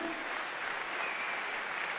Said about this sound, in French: je vous demande une nouvelle fois d'applaudir dans le coin rouge ce soir